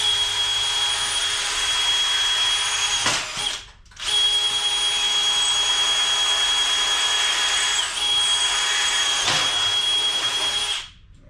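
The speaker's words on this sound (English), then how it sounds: "That one drilled." A power drill whines steadily at high speed drilling a pilot hole for a car side pipe, briefly stopping once and then running again in a long continuous burst, close and loud.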